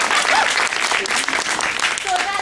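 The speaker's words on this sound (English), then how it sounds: "I just want to give Denise a clap" Audience applause fills a symposium hall, dense and steady for the whole stretch, with voices mixed into the clapping.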